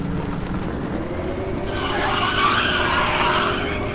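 Tires squeal in a long skid as a car slides around in a driving video game, the hiss building and spreading after a quieter engine-and-road rumble at the start, loud and continuous with no talk.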